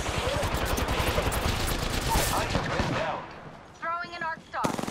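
Rapid bursts of automatic gunfire from an Apex Legends match, loud and dense for the first three seconds, then thinning into sparse shots and game effects.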